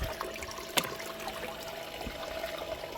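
Water running over a Miller table used for gold recovery, flowing unevenly with a rippling rather than smooth sheet, a steady close trickle and splash with a brief knock partway through.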